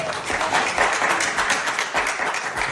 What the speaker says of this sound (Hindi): तालियां मारो ताली